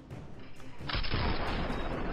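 Shotgun blast in the Fortnite video game, a single loud, sharp boom that cuts in suddenly and rings out over busy game noise.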